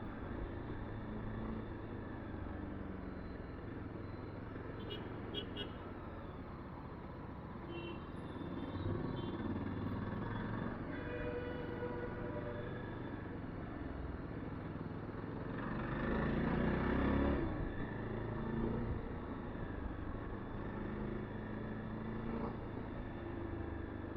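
A Yezdi Adventure motorcycle rides through rain on a wet road, its engine a steady droning hum under a constant wash of road and wind noise, swelling briefly midway, with no talking.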